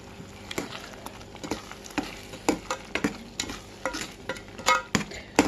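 Orange pulp jam simmers in sugar syrup while a spoon stirs it, making repeated scraping strokes over a soft bubbling sizzle. The strokes come irregularly, up close.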